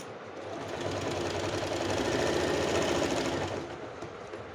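A sewing machine runs steadily while stitching the shoulder seams of a kurti, its fast rhythmic whir swelling up and holding for about three seconds before winding down.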